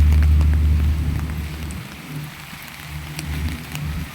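Heavy rain pours down steadily in stormy weather, a dense, loud and continuous roar of drops hammering surfaces with no pause.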